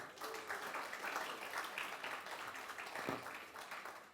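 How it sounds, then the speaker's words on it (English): Audience applause at a conference on the final day of a Pacific preservation summit, a steady dense wash of clapping from a large crowd held at an even moderate level throughout. "Give yourselves a round of applause."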